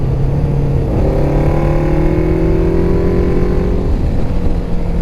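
Suzuki GS550 motorcycle engine running loud and close with wind rush, its steady tone dropping in pitch as the rider downshifts twice in quick succession.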